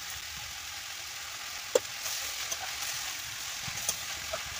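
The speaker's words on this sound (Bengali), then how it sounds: "ভালো করে সুন্দর করে নেড়ে চেড়ে পেঁয়াজটা লাল লাল ভাজা হয়ে গেলে আমি এই কেটে রাখা চাল কুমড়োগুলো ওর সঙ্গে দিয়ে দেবো" Onions and ash gourd frying in a pan give a soft, steady sizzle, with a few faint clicks and scrapes as they are stirred, no voice heard.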